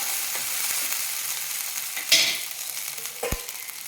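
A flipped moong dal pancake fries in a pan, a steady close sizzle with a sudden louder spit of hot oil midway and a soft knock of a utensil near the end.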